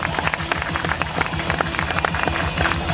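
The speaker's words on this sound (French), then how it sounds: "Je vais l'applaudir." A crowd applauds after a martial arts demonstration on a tatami at an outdoor park festival, brisk, steady clapping that stays fairly loud throughout with a rhythmic background underneath.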